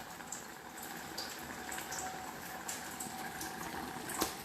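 Cherokee chili simmering in a pot on low heat, a soft continuous bubbling and popping with occasional louder blips, close and quiet.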